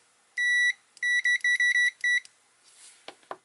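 A ZOYI ZT-QS7 clamp meter sounds its continuity beep: one longer tone followed by a quick series of short electronic beeps, clear and close, with faint handling clicks afterward.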